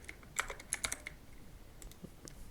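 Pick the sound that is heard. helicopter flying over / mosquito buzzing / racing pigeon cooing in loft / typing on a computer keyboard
typing on a computer keyboard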